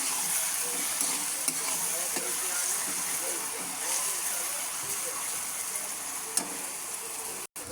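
Rice for fried rice frying in a pan makes a continuous loud sizzling hiss, with a few soft stirring knocks and a brief break near the end.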